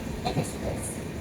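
Kolkata–Radhikapur Express, the down train, rumbling past at moderate level with a steady broadband roar and faint metallic rail tones, briefly and without talk.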